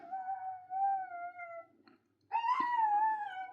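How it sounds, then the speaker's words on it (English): Puppies whine and howl in two drawn-out, wavering cries separated by a short pause. The sound is fairly close and steady, with no talking. "Oh, the puppies."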